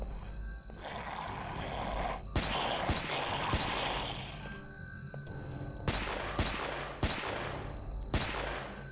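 Gunfire in the Deadly Flare video game, sharp individual shots spaced a second or two apart over a low droning background, fairly close and clear.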